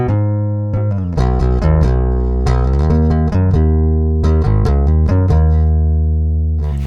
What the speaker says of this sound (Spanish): Basta escuchar el fundamento que el bajo le da a la canción al final de cada coro